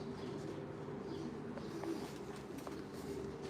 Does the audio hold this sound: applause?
no